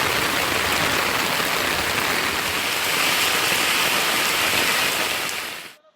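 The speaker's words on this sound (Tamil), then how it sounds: "கனமழையால் சாலைகளில் தண்ணீர் பெருக்கெடுத்து ஓடியது" Heavy rain pours steadily while floodwater runs across roads, making a loud, dense, continuous rush that holds without a break before cutting off abruptly at the end.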